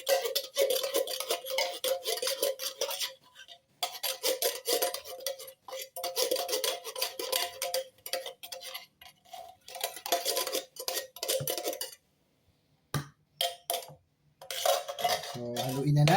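A utensil works through a graham bar mixture with condensed milk, clinking and scraping steadily in a bowl, with short pauses and a brief break of near silence near the end.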